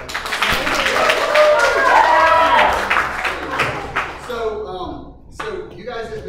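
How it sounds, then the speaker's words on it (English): A church congregation breaks into clapping and cheering, loud and full at first, then thinning and fading to scattered claps while a speaker's voice continues over it. "Can we clap?"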